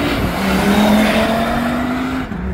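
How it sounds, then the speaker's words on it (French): A Porsche GT3 RS sports car accelerates hard at a supercar meeting, its loud, close engine note holding a rising, sustained drone before dropping off near the end. "Et GT3 RS juste derrière."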